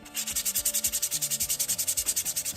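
Brake pads from a Honda Prelude rubbed with sandpaper, a fast rhythmic run of close, loud back-and-forth scratching strokes.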